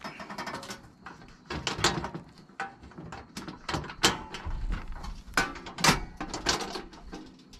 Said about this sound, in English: The cooker typically goes like so. Open it up.